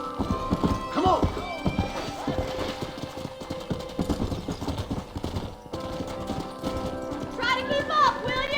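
In the Red Dead Redemption video game, a horse gallops with rapid, continuous hoofbeats and gives a whinny near the end. Game speech and action sounds run alongside.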